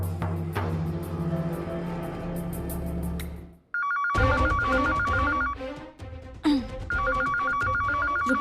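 A telephone rings in repeated electronic trilling bursts, loud and close, after a stretch of low background sound, with brief pauses between rings.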